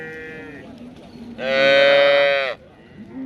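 A cow lets out one long, loud moo in the middle of a weekly cattle market in Modnimb, with faint low murmurs of other animals and activity before and after.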